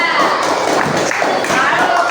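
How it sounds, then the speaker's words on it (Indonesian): Students in an elementary madrasa classroom clap for a group, a dense, close burst of hand claps filling the room over low background chatter. "tepuk tangan buat kelompok 2"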